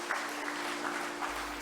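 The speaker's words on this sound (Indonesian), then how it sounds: "kita sambut dengan tepuk tangan ya" Soft, continuous clapping from a church congregation welcoming newcomers to worship, fairly faint and steady over a low background hum.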